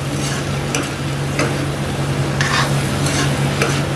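Carrot and pea curry being stir-fried in a pan gives a steady, loud sizzle with a low hum underneath, while a few scraping strokes of stirring come through clearly, close by and with no talking.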